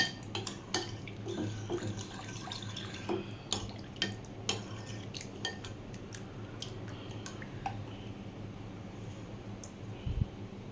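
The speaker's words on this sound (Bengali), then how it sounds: "লবণ দিয়ে ভাতটাকে একটা চামচ দিয়ে ভালো করে মেখে নিচ্ছি।" Soaked rice (panta bhat) is mixed with salt using a spoon, producing continuous wet squishing and scraping with frequent light clinks of spoon against the plate, close and steady throughout.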